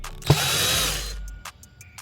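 A power drill runs in one steady burst for about a second, backing screws out of a subwoofer install, followed by a few short clicks and taps; close and loud with no talk.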